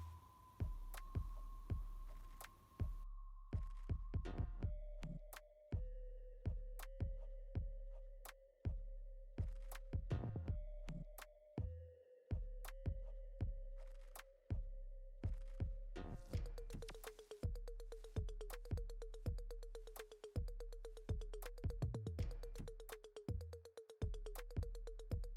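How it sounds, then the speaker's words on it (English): A sewing machine runs in repeated bursts of steady mechanical whirring while sewing a straight stitch on a dress, stopping and starting several times, then a faster rattling run toward the end. "go to your sewing machine and sew all the way down a straight stitch."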